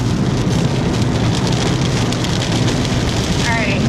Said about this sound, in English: Going into the rain now.